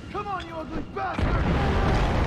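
A blast from explosives in a Siren Head horror video game, a dull roaring boom that lands midway and keeps rumbling loudly to the end, after excited voices talking over game sounds.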